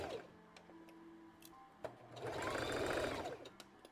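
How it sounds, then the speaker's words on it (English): A home sewing machine top-stitches the hem slit of a dress, with scattered clicks and handling noises before a run of steady, quiet stitching whir swells toward the end. "this is just top stitching this slit for a nice finished hem"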